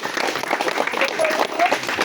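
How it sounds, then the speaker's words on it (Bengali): A crowd at a street magic show claps loudly and continuously, a dense wash of applause with voices mixed in. "একটু জোরে তালি দিয়ে জোরে বাজান"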